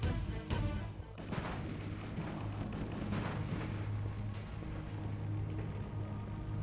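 A grenade blast in Halo 1 on Legendary difficulty booms loudly near the start and is followed by heavy rumbling combat noise that stays dense and sustained.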